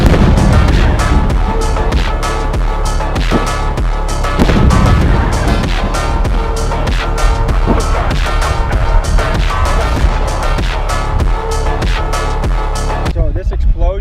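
Rapid bursts of gunfire and heavy blasts from firearms training with a Navy SEAL, a loud, dense barrage of sharp cracks and booms running almost continuously, with voices mixed in, ending abruptly near the close.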